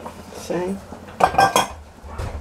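Ingredients for an oven-roasted pork loin with potatoes are mixed in a metal bowl or pan, giving close, clattering clinks and scrapes of utensil against dish in short bursts, with no talk.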